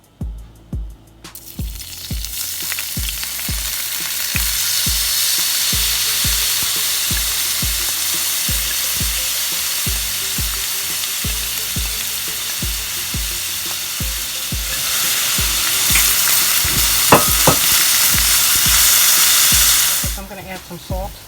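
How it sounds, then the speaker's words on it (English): Vegetables sauteing in olive oil in a pan give a steady, close sizzle for about twenty seconds, with repeated knocks and scrapes of stirring throughout and the frying growing louder near the end. "So I'm going to start sauteing my vegetables."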